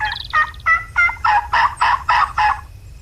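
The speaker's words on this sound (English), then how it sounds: "And there's another one gobbling off to our left too." A wild turkey gobbles in the hunting video game Turkey Hunting Unlimited, a series of about eight rapid, rhythmic gobble pulses, fairly loud and close, with no talk over it.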